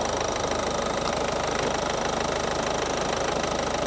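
A car engine runs steadily with the air-conditioning compressor clutch engaged, giving a constant close mechanical drone with a fine rapid ticking texture that persists evenly throughout.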